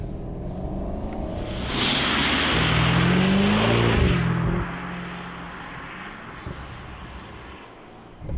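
An Alpina B7 engine in comfort mode idles with a smooth, low hum, then swells into a brief, restrained rev before settling back to a quiet idle. No one speaks.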